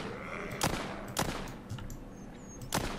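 Three sharp gunshots in the video game The Walking Zombie 2, spaced about half a second apart, with a bright electronic whine in the background, punchy and close.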